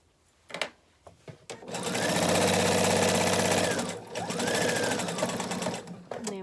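A sewing machine stitches a pillow slipcover in a loud, steady whir that runs close by for a couple of seconds. It slows briefly, then runs again, with soft handling clicks before and after.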